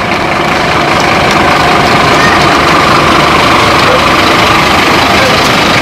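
A French fire service FPT pump engine idles during the 14 July Bastille Day parade, a loud, steady diesel rumble with broad noise that holds unchanged throughout.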